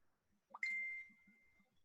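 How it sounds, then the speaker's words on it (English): A single phone notification ding heard faintly in the background of a woodland live stream, a short rising chime followed by a sustained ringing tone that fades over about a second. "Oh, whose phone's going bing?"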